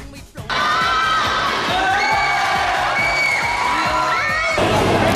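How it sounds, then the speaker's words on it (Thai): At a youth taekwondo competition, a crowd of spectators bursts into loud cheering, children shouting and whooping with high excited voices and rhythmic chanting, sustained and close after a short quieter opening. "เหล่าบรรดากองเชียร์ต่างก็ส่งเสียงกัน อย่างชนิดว่า ไม่จบเกมก็ไม่เลิกเชียร์แน่นอนค่ะ"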